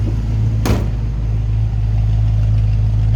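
The Ford 260 V8 engine of a 1965 Ford Mustang coupe idles steadily with a low, even rumble, and a brief sharp bang partway through.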